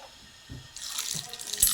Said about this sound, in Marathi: आता आपण हे तेल तापलं आहे आपलं मी मोहरी टाकून पाहते